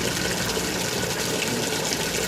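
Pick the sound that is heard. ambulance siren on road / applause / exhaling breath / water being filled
water being filled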